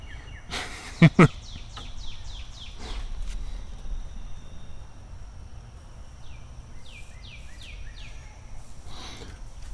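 Toucans calling outdoors near their enclosures: a run of short, repeated croaking calls in two bursts, moderately near, with a couple of sharp knocks early on over steady outdoor background noise.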